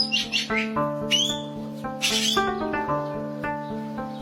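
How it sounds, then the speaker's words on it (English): A common hill myna (Gracula religiosa) gives a run of varied whistles, squawks and chirps in quick succession, fairly loud and clear with no talking. "Common hill myna, Gracula religiosa."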